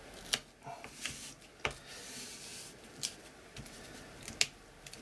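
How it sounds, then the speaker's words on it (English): Repeated sharp snipping and rubbing sounds of scissors cutting through gaffer tape, with several distinct cuts spread irregularly over a few seconds, close and fairly quiet. "I'll just cut that with my scissors"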